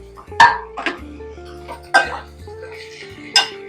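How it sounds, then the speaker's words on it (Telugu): Pieces of okra and tomato go into a frying pan, giving four or five sharp metallic clatters and clinks of pan and utensil against a low steady hum. "ఈ ఐదు బెండకాయ ముక్కలు, టమాటా ముక్కలు ఒకేసారి వేసి"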